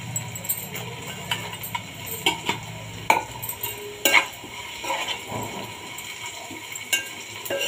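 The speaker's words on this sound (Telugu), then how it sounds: "కొంచెం జీలకర్ర వేసుకుందాం." Cumin seeds dropped into hot oil for tempering alongside crushed garlic, a low sizzle beneath clattering spoon stirs and sharp metallic knocks against the pan, close and fairly quiet.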